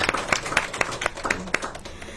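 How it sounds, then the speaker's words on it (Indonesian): Scattered clapping from a small audience at a health talk show, about ten distinct sharp claps in a loose rhythm, close and fairly loud, with no voices over them. "Tepuk tangan untuk produk NASA"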